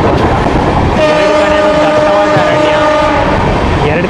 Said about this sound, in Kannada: ಮಧ್ಯದಲ್ಲಿ ನಮ್ಮ ಟ್ರೈನ್ ಹೋಗ್ತಾ ಇದೆ